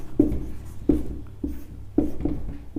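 Pen strokes on paper as Hindi words are written by hand, five or six distinct scratchy taps in an uneven rhythm, close and clear with no voice over them.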